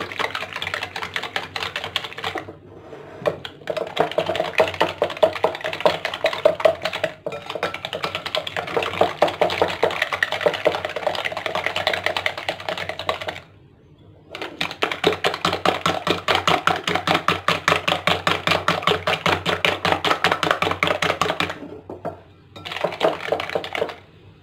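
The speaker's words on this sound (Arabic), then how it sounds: "نخلط مزيان سنيده مع البيض ديال الاولى." Eggs and sugar being whisked together for a simple cake batter, a rapid rattling clatter of a whisk against a bowl, fairly close and steady, stopping briefly a few times before resuming, with no talking.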